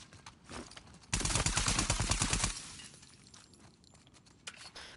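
Glass shattering from an explosion in The Last of Us Part 2, a dense burst of crashing, crackling fragments lasting over a second, then fading to scattered tinkling debris.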